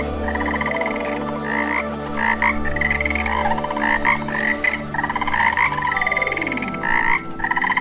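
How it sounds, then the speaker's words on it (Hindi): A frog croaks close by outdoors in repeated rhythmic bursts of raspy, pulsing calls with short pauses between them, heard alone over a low background hum. "क्या यही मेंढक इतनी देर से बोल रहा था?"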